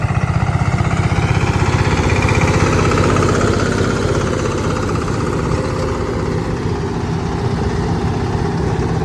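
A tractor engine drones loud and close beside a cotton field, a steady low rumble with rapid, even chugging pulses running throughout without talk.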